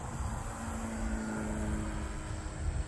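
The small engine of a scratch-built Sopwith Dove model biplane, with an unbalanced propeller and a nitro-like sound, gives a steady, even drone over rough outdoor wind noise.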